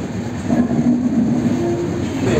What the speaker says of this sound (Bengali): 12354 ডাউন লালকুয়া এক্সপ্রেস অলরেডি 1 নম্বর প্ল্যাটফর্ম থেকে ছেড়ে দিল।